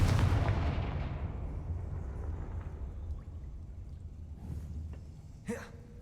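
A Confringo blasting spell explodes in Hogwarts Legacy, a loud booming blast at the start that slowly decays into a long rumbling tail, followed by a brief faint sharp effect near the end.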